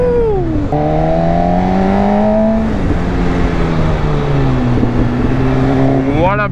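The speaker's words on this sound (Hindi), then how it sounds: "I am riding the MV Agusta F4" An MV Agusta F4 superbike engine roars loud and close while being ridden, its pitch climbing and falling with gear changes and throttle, then rising sharply at the end as the rider revs up.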